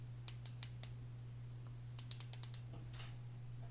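Sharp, crisp clicks from the tail switch of a Wurkkos TD04 flashlight come in small quick clusters, close and quiet over a steady low electrical hum.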